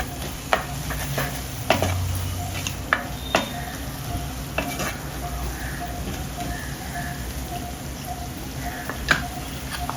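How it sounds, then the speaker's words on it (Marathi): Onions and masala sizzle in plenty of oil in a wok for a jackfruit curry, a steady frying hiss broken by intermittent scraping clinks of a spatula stirring, close and without talk. "नीट कांद्याला मसाला लागून कांदा नीट भाजून घेऊया, परतवून घेऊया."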